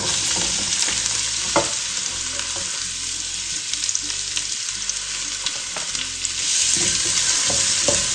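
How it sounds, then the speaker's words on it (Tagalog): Onion and ginger sizzle steadily in hot oil in a pan for Ilocano papaitan, with intermittent stirring scrapes over the constant loud frying hiss. "Gisan niyo pong mabuti yung luya"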